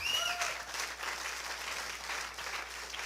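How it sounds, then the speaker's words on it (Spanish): A church congregation gives steady, moderately loud applause that continues evenly from start to finish, with a brief vocal exclamation near the beginning. "Denle un aplauso a Cristo"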